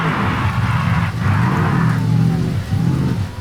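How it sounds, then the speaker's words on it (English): Heavy rain in the BeamNG driving game, a dense steady hiss of falling water over a low rumbling car engine, continuous and loud throughout. "The rain is really killing it."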